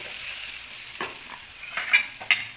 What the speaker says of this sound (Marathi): कांदा शेंगदाणे वगैरे सगळे चांगले भाजलेले गेले आहेत.